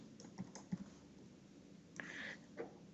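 A computer keyboard typed on in short, sparse bursts, a few soft key clicks and a brief cluster of taps, faint and close with no talking.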